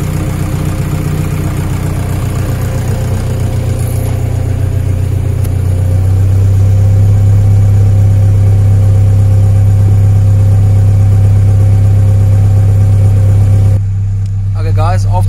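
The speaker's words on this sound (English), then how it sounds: "you can see the car is idling and we're sitting on 0 degrees" A car with a PD diesel engine idles steadily after a timing adjustment, a loud, even low drone running the whole time, with a brief drop near the end.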